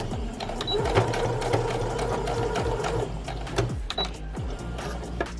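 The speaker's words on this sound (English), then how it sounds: "go ahead and sew close, all the way to the edge almost, and give it a back stitch" A sewing machine stitching along a fabric edge for a reusable face mask, finishing with a back stitch: a fast steady mechanical whirr, close and prominent, with the rhythm shifting near the end and some talk alongside.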